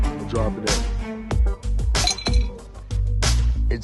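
A small hard object dropped into a glass bottle filled with water, producing several sharp close clinks and rattles against the glass in irregular bursts, fairly loud with no talk.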